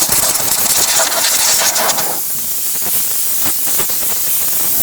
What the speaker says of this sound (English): Just going to use a little compressed air.